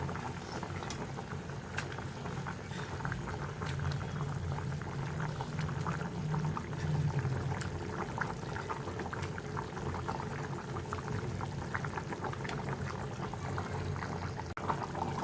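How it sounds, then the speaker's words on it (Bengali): A simmering curry gravy bubbles steadily as pieces of fried fish are added, a continuous close boiling and liquid churn with occasional small splashes and knocks, no talk. "এখন হচ্ছে আমি ভেজে রাখা মাছগুলো দিয়ে দিব ঝোলের মধ্যে"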